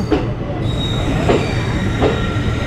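The Circar Express, hauled by an electric locomotive from the Bezawada shed, rolls into a station with a steady heavy rumble, metallic wheel squeals recurring every second or so, and faint clatter.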